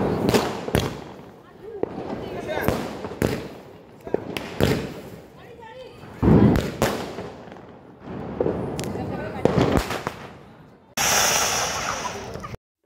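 Children set off Diwali firecrackers outdoors, a series of sharp loud bangs spaced a second or two apart, with a longer hissing, fizzing burst near the end and voices talking in between.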